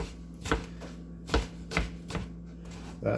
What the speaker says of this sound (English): I'm going to cut those into little chunks as well